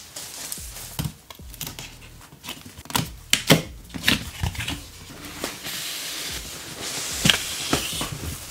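Keys on a mechanical keyboard clack in an irregular typing rhythm, with sharp close clicks and a few louder bursts over a faint background hiss.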